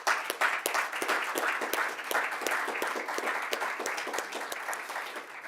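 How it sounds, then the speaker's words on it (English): Sustained audience applause for entrepreneurs at an ocean innovation funding announcement, dense steady clapping from a crowd that holds strong and tapers slightly toward the end. "let's celebrate those wonderful entrepreneurs by giving them just a big round of applause"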